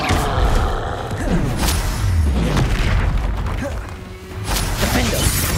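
Fire-blast spell combat in Hogwarts Legacy, with the Confringo blasting spell: loud, dense booms and crashing impacts piled over continuous game noise, with voices in the background.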